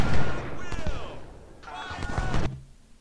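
Cannon fire from artillery batteries in Ultimate General: Civil War at Gettysburg comes as two distinct bursts of booming shots, each cluster of reports rolling together. Someone talks over the first and in between the volleys.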